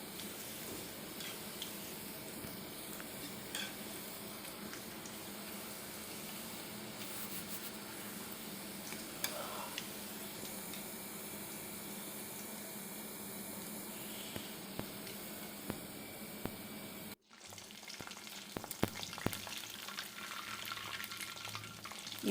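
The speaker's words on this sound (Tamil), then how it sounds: "எண்ணெய் நல்லா காஞ்ச பிறகு காலிஃப்ளவரை போட்டு நல்லா பொரித்து எடுத்துக்கலாம்." Cauliflower deep-fries in hot oil with a dense, steady crackling sizzle that runs on without pause, then dips briefly near the end before resuming, close and even in level.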